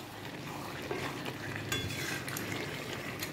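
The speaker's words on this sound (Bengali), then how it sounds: "আমি মশলাটা দিয়ে এবার চিকেনগুলোকে ভালো করে কষিয়ে কষিয়ে তারপরে আমার চিকেন কারিটা রেডি করছি" Chicken pieces being stirred and fried in spice paste for a chicken curry, a steady soft sizzle with scraping of a utensil against the pan, close and continuous, with no talking.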